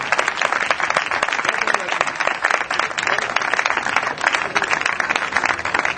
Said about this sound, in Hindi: जोर से तालियां बजाएं, जोर से